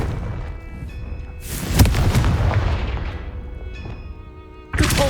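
A fiery Confringo spell explodes in the video game Hogwarts Legacy with a deep, booming blast that rumbles and fades over a couple of seconds. A second impact hits sharply at the very end.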